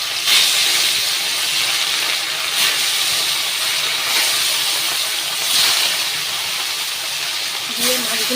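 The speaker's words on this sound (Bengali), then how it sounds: "এবার আমি মাছগুলো এক এক করে ছেড়ে দেব" Shol fish going into hot oil to fry for a Bengali curry, a steady broadband hiss and sizzle that holds through the clip with slight swells, close and alone.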